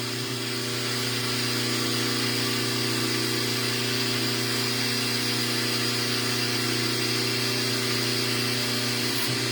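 An electric hydraulic pump raises a cylinder ram, its motor running loud, steady and unbroken from start to finish with a constant droning whine and no talk.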